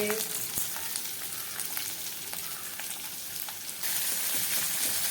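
Onions, tomatoes and green chillies with salt fry in a pan, giving a steady close sizzle with light stirring clicks, growing slightly louder toward the end.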